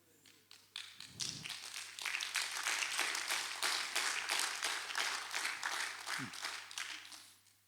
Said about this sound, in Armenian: Շուտ եք ծափարում